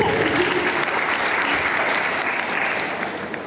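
An audience at a school principal's retirement program gives steady, full applause, dense clapping that carries on throughout and fades slightly toward the end.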